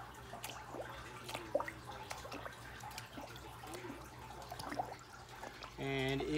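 Water splashes and drips in a bucket as a sponge filter from an aquarium is rinsed in clean water, soft irregular sloshes and trickles at low level, ending with a brief louder splash of movement.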